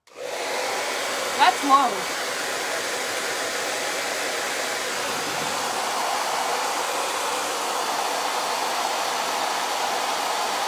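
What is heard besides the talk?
loud dryer tool drying layers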